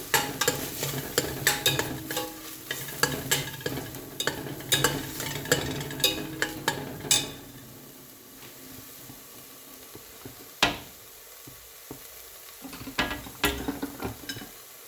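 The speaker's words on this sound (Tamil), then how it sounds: "Chilli powder and coriander powder இது ரெண்டையும் நல்லா மிக்ஸ் பண்ணிக்கலாம்." Chili powder and coriander powder are stirred in a pan for a mutton gravy, with a utensil scraping and clinking against the metal in quick repeated strokes over a soft sizzle, close and alone.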